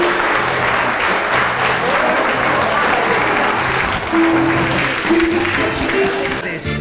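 Loud, continuous applause from the crowd at a choir gathering in a club hall, welcoming the Seguime choir. It stays full and even, with a voice rising faintly above it near the end.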